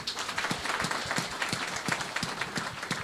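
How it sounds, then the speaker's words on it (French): A church congregation clapping in applause for a woman during a service, dense continuous hand claps with a steady rhythm, fairly faint and distant, with no talk over it. "Applaudissez donc pour elle."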